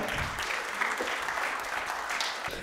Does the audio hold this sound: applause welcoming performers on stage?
yes